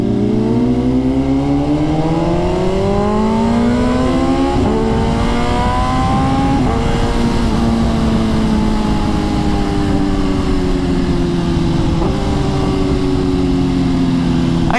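Loud, raw sport motorcycle engines with open straight-pipe exhaust and no muffler, revving and shifting up and down continuously while riding in traffic, with a harsh rasp and rising and falling pitch throughout.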